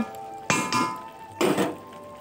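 A metal lid clatters onto a cooking pot of bottle gourd set to boil, two bright clanks about a second apart over a faint kitchen hum.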